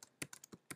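A few quick keystrokes on a computer keyboard while typing JavaScript code, five distinct clicks spaced unevenly and close by.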